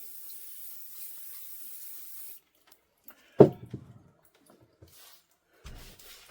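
Seized Crossley piston rings being rinsed under a running tap: a steady stream of water splashing for a couple of seconds, then a sharp clatter of metal parts in the sink and a few scattered knocks.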